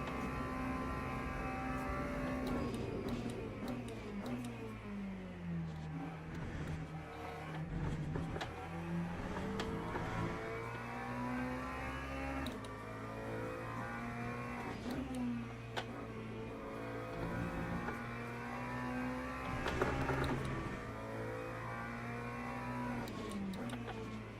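A race car engine in Le Mans Ultimate drones continuously through gear changes, its pitch rising and falling with acceleration and braking, steady and fairly loud with no talk.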